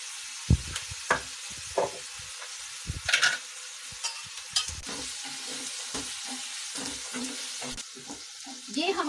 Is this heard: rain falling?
no